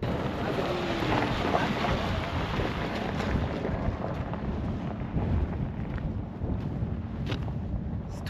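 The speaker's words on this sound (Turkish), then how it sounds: "It's too windy." Strong, steady wind roars and buffets the microphone throughout, a dense rushing noise with no voices.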